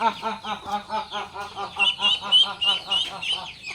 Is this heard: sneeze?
no